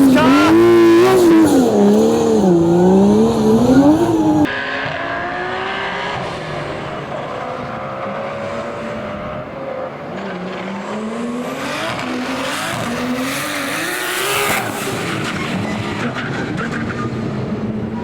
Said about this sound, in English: The drift car!